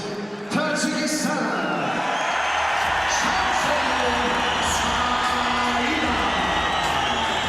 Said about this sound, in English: just listen to the round of applause that welcomes the local boxer from Hulbuk in Tajikistan